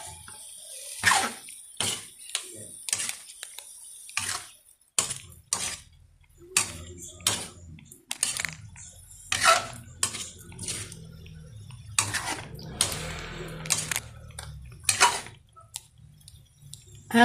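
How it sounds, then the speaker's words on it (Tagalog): A spoon clinks and scrapes against a cooking pot while food is stirred after soy sauce goes in, giving irregular sharp taps and scrapes with quiet gaps and faint wet sounds. "Haluin lang po natin."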